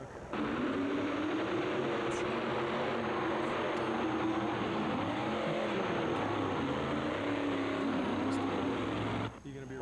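Loud, continuous roar of powerful tractor engines straining at high revs at a tractor pull, steady and unbroken for several seconds before cutting off near the end.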